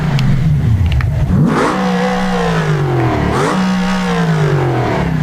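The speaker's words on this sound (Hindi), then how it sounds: "गाड़ी का इंजन काम कर रहा है नो डाउट, बट वो इंजन टायर को पावर नहीं दे रहा" A car engine revs hard in repeated rising and falling surges while the wheels fail to drive it forward on a steep mountain downhill, loud and close with a clattering undertone and no talk.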